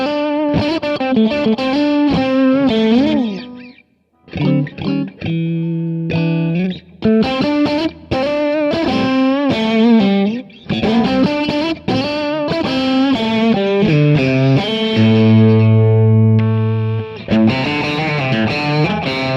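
A PRS SE Silver Sky electric guitar rings out through distortion and chorus-style effects, loud and close, with strummed chords, picked runs and a long sustained low note near the end, all without talk.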